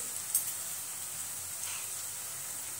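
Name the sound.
sautéing green chili, salt and turmeric in a pan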